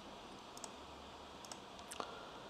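A few faint, sharp mouse clicks while setting up a client secret in an Azure web portal, scattered singly over a quiet background with no talk.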